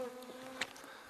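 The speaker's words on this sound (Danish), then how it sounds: "Der er enormt mange myg her." Insects buzz faintly around a dense forest trail, a thin whining drone with a brief louder pass as one flies close, no voices present.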